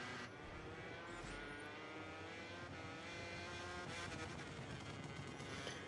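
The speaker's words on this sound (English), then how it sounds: "the engine glitching out a little bit. That's probably just the game." Motorcycle engine in the MotoGP 24 racing game, a steady high-pitched race bike whine with a rough, stuttering buzz running throughout, fairly faint and without talk.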